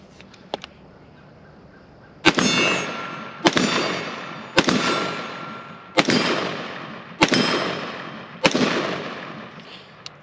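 Six sharp, loud rifle shots from AR-15 rifles firing PMC green tip ammunition, spaced about a second apart in a steady cadence, each followed by a decaying echo, with a few faint clicks before the first shot.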